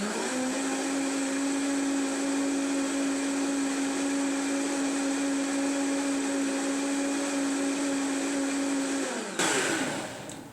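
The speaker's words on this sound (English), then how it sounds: "So now all I'm going to do is just blend this together." A high-powered blender whirs steadily while blending a tomato drink, a loud continuous motor hum that holds at one pitch for about nine seconds, then cuts off and winds down.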